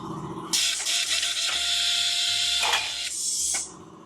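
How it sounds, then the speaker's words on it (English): A large clamping machine in a high-end woodworking shop tightens bolts down on a glued workpiece, giving a loud, steady mechanical whir with clunking shifts that runs for about three seconds, then cuts off. "what that machine's doing is tightening these bolts down"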